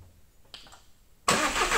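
A car engine cranks and catches on a jump starter booster (Topdon JS2000 / EGWO 1000A test), faint clicks first, then a sudden loud burst as it fires and settles into a steady roar.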